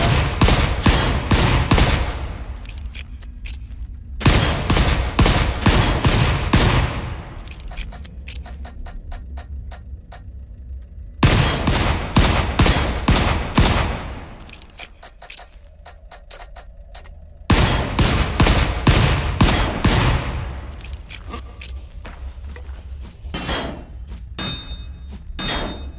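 Repeated bursts of rapid gunfire from a weapon in the survival game Volcanoids, loud and close, arriving in several dense volleys separated by brief lulls of lower mechanical hum.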